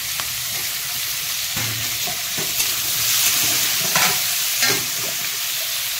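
Chopped garlic sizzles steadily in a pan for shrimp curry, with occasional stirring scrapes and light clinks over the constant frying hiss.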